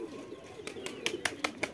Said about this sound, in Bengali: আমার পাশের বাড়ির কবুতর।